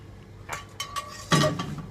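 A metal wok clanks and scrapes on a stove while making shark fin rad na, a few sharp metallic clinks followed by a louder ringing clatter, close and otherwise quiet.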